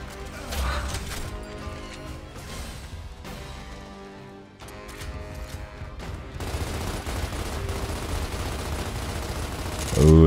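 Gunfire in the video game Gears of War on Insane difficulty, a dense, sustained burst of weapon fire and mechanical clatter under a game soundtrack, growing louder and harsher toward the end.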